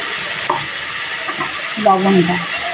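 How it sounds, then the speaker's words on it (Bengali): Mixed vegetables, beans among them, stir-frying in a pan for fried rice make a loud, steady sizzle with scraping stirs, and a few brief clinks or murmurs sound near the end. "এরপরে দিয়ে দেবো বিনস, দিয়ে প্রত্যেকটা সবজি ভাজা ভাজা করে নেব।"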